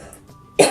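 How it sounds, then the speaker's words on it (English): A single sharp cough from a woman feeling unwell, sudden, loud and close after a near-silent pause. "excuse my coughing"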